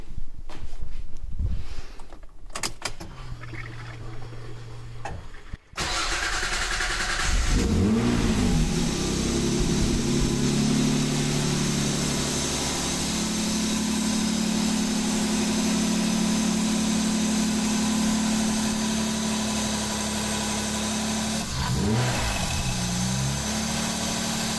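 A Jaguar engine swapped into a Mazda MX5 cranks and catches after some quiet clicks and a brief whine, then settles into a loud, steady idle with a couple of short rev blips near the end.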